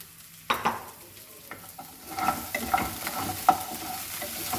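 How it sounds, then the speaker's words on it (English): Masala frying with crab pieces in a pan for a Goan crab curry, soft sizzling under intermittent stirring scrapes and a few sharp clinks of the spoon against the pan. "Now the masala is nicely fried. Now I will add this to this and fry for a while."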